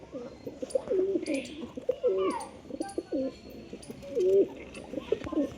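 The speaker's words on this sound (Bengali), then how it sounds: "কবুতর প্রচুর কবুতর আছে।" Domestic pigeons kept in a loft, including a breeding pair and a molting male, coo steadily in overlapping rounds close by, with faint chirps from other birds in the background.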